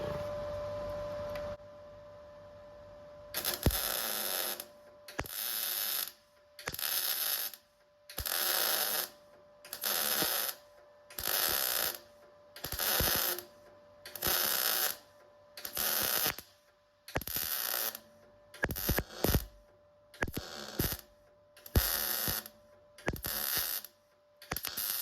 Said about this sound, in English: But I shall show you now when I weld it up.